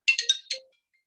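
A mobile phone ringtone from an incoming call plays as a quick run of four bright electronic tones, close and clear, then stops into silence.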